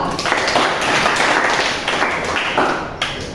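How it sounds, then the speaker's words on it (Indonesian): A class claps hands together, a loud, close patter of clapping in rhythmic waves that rises and falls over a few seconds. "Jadi beri tepuk tangan untuk kita semua dulu."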